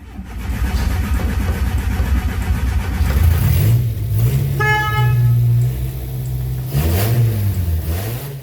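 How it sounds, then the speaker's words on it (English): Volkswagen Golf engine, dormant for years, cranking and then catching; a loud rough mid-range engine roar runs throughout, with a strong horn-like tonal burst and rising revs near the end. "After years without running, this engine is making noise again."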